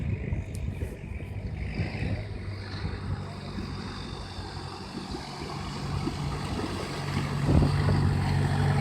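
A boat motor drones on a river beside a temple pier, a low steady rumble with wind and water noise that swells louder toward the end.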